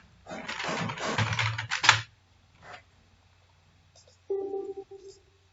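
A name is typed on a computer keyboard as a fast cluster of close key clicks, followed by a few isolated taps, with some nearby speech.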